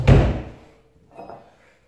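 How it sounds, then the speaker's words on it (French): Close by, a door is shut firmly with one solid thud that fades, followed a second later by a softer knock or rattle. "Je ferme bien la porte."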